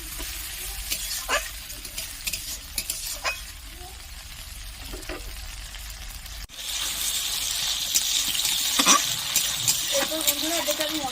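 Ginger garlic paste sizzles and spatters in hot oil while a spatula scrapes through it, the frying hiss steady and close, growing brighter and louder midway through.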